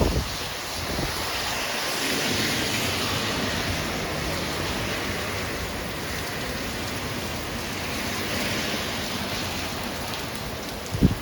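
Flood water from a high tide pouring over a road toward a dead end: a constant rushing, splashing wash mixed with wind buffeting the microphone, steady and fairly loud throughout with no voices.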